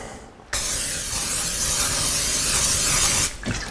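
Non-stick cooking spray hissing steadily into a baking dish for about three seconds, close and fairly loud, with quiet handling before and after.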